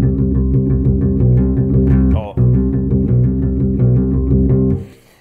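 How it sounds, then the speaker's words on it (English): Electric bass riff in a punk and funk style, played alone with a half-step approach note leading into the root; steady repeated notes run throughout, with a brief break near the middle. "I'm sure you've heard riffs that sound like this."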